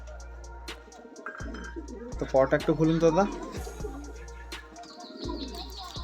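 Breeding-pair pigeons in a home loft coo and flutter close by in a quiet indoor space, soft repeated cooing with a brief burst of wing flaps, while someone speaks nearby.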